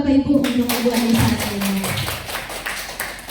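Audience applause from parents at an Indonesian mentoring session, a dense patter of many hands clapping steadily for several seconds, fairly loud and close in a room, with voices murmuring underneath.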